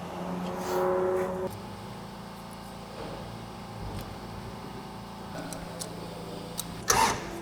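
A barn-find Pontiac Firebird V8 idling steadily under load on a dyno, a low continuous engine drone with a brief louder rise near the start and a sharp clatter near the end.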